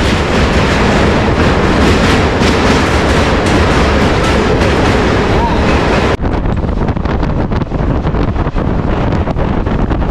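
A moving passenger train on the Kolkata to NJP route (train 12363) gives a loud, steady rumble of carriages with wind noise. Partway through, the sound drops to a duller, slightly quieter roar.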